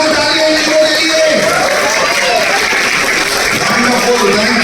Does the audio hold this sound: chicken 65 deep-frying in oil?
no